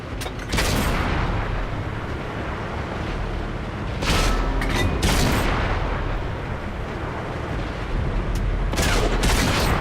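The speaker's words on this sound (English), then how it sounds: "Ready to fire on target." A Centurion Mk.1 tank cannon fires in World of Tanks, several heavy booming blasts a few seconds apart, each a sharp loud crack followed by rumbling decay under continuous engine noise.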